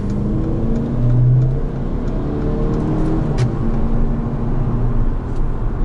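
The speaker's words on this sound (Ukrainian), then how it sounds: "я зробив обгін" A Mercedes CLA accelerates while overtaking, its engine pulling steadily under a constant rush of road and tire noise heard from inside the cabin, with no talk.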